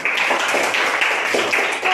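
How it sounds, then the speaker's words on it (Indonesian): A class claps together in a classroom, brisk continuous applause close by, with a few voices faintly mixed in. "Kita beri tepuk tangan."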